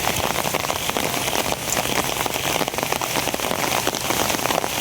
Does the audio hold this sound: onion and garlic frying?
no